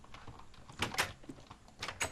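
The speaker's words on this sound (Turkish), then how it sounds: "yüzüme kapıyı kapattın" A wooden door shutting in the Minecraft video game, a few soft knocking and scraping sounds bunched close together, fairly quiet and with no talking over them.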